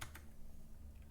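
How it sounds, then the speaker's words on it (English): A command is typed on a computer keyboard: a short, faint patter of key clicks, close by and alone. "So the first command we're gonna type is"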